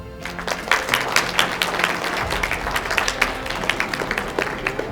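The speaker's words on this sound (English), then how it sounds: "Can I have a round of applause?" An audience at a speech event in Oklahoma City breaks into applause, dense steady clapping from many hands across a large room, sustained throughout with no talking over it.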